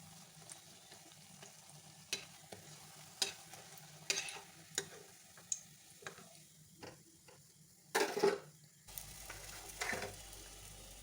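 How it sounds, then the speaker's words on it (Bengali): Ripe banana malpua batter frying in a pan, a low steady sizzle broken by repeated sharp ticks and clinks of a utensil at irregular intervals, with a louder scraping burst near the end. "এমন করে করে সব ভেজে নেবো"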